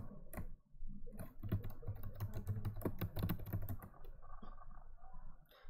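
Someone types login credentials on a computer keyboard, a quick run of close, crisp key clicks in an irregular rhythm, fairly quiet, with no voices.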